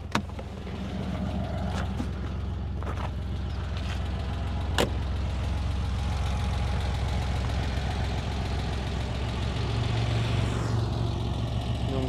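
A Porsche 911 3.2 flat-six idling while stopped at a mountain pass, a steady low throbbing rumble close by, with a few faint clicks and a brief rise in tone toward the end.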